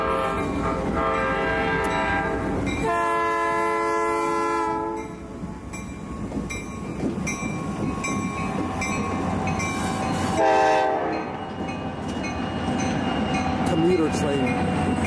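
A train rumbles steadily along the westbound tracks beside the C&O Canal between Point of Rocks and Brunswick, Maryland, with two long horn blasts sounding over the noise, one early and a shorter one later.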